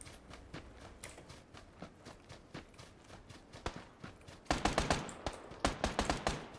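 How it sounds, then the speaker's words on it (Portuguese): Gunfire in the video game PUBG Battlegrounds: a rapid series of sharp cracking shots, sparse and moderate at first, then a louder, denser burst of bangs in the final two seconds. "tamo levando tiro pra cá"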